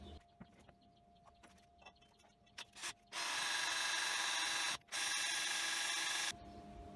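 A cordless drill bores holes into a steel propane tank. A few scattered clicks and taps come first, then two loud, sustained bursts of drilling with a brief pause between them, in an otherwise quiet space.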